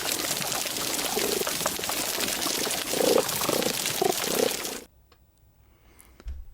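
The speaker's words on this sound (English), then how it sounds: "This is the sound of a reef in the river." An underwater recording from a river reef holds a dense, crackling fizz, like sizzling, with a few brief louder pops. It cuts off abruptly into near silence, followed by a faint low thump.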